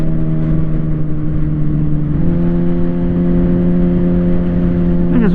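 Steady car engine drone inside a vehicle moving through heavy commuter traffic on a foggy day, a constant whirring hum with a small pitch shift partway through as other cars rush past.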